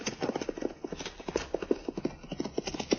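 Galloping horse hooves from a rider approaching in a 1953 Cisco Kid radio Western, a fast, even clip-clop drumming close and loud with no voices over it.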